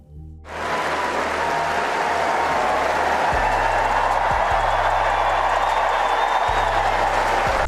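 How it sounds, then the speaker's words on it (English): A crowd at Wimbledon gives Princess Kate a thunderous standing ovation: loud, dense applause that swells in within the first half-second and holds steady and sustained to the end, with no talking over it. "Kate received a thunderous standing ovation at Wimbledon"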